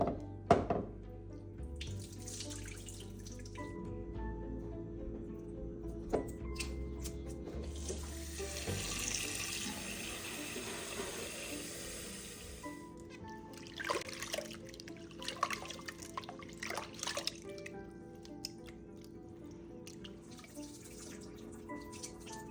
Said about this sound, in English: Now rinse well and drain the water.